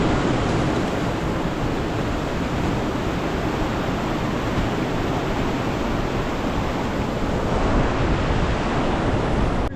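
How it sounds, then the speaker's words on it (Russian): A nearby river flows with a steady broadband rush beside snow, continuous and fairly loud for the whole stretch, with no voices. "Рядом это речка."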